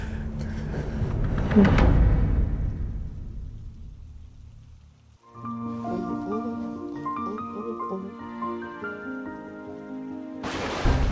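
Steady heavy rain pours through a nighttime thunderstorm during a power cut, with a loud rumble of thunder swelling early on; later the rain continues under music.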